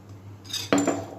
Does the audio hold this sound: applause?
no